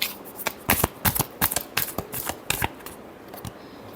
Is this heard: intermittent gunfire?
no